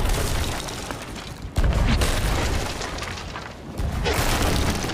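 Ship cannons fire in a Sea of Thieves naval battle: a dense, loud, continuous barrage of booms, with heavier blasts hitting about one and a half seconds in and again near the end.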